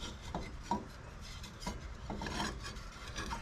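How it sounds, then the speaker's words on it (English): The upper drive belt of an MTD riding mower is worked over a pulley by hand, heard as close, intermittent rubbing and rasping scrapes with a few light knocks, with no voices. "Get the belt past the pulley."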